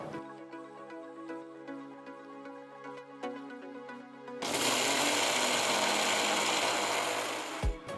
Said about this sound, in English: Cool the Jowar and grind it to a nice coarse powder.